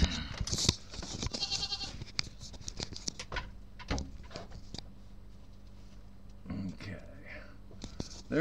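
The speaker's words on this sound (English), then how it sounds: "There's pretty much all the sheeps." Sheep on a ranch bleat amid shuffling, pattering hooves and movement, with a person's voice talking quietly nearby at times.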